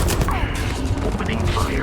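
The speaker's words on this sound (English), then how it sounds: "Opening fire." Gunfire in the video game Starfield comes as a dense, loud clatter of shots and mechanical noise through a short burst, with game effects mixed in.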